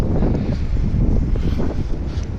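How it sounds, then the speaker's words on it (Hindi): Cold wind buffets the microphone outdoors near Masjid an-Nabawi in Madina, a steady low roaring rumble that fills the whole stretch with no voices. "बहुत ही ठंडी हवा चल रही है इस वक्त।"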